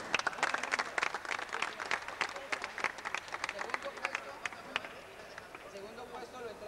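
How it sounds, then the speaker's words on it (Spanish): Audience applause at a microfootball award ceremony, a dense burst of clapping from a small crowd that gradually thins and fades toward the end. "Importante apoyo y pido un aplauso para."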